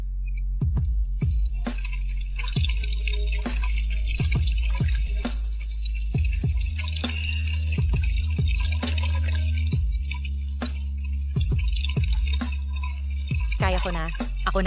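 Water drips and splashes from a tap during washing, with repeated sharp drops and small splashes over a steady low hum. No one speaks.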